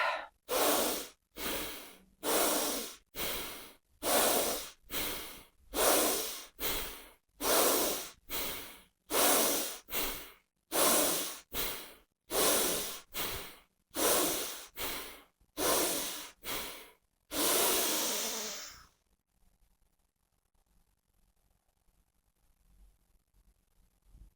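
Bhastrika pranayama yoga breathing: about twenty forceful, rhythmic breaths pump in and out at close range in an even, rapid series, then stop abruptly into near silence.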